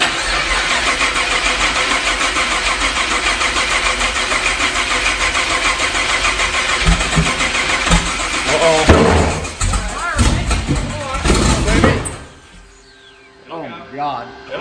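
The new Freedom Rocket engine cranks, catches and runs at a loud, steady roar close by, then revs up and shuts off abruptly near the end, with voices shouting over it.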